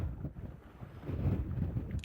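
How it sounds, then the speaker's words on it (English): Gusty southwesterly wind on an African safari buffets the microphone in low, rumbling surges, rising and easing over two seconds with no voices. "They're in the perfect spot for this howling southwesterly wind."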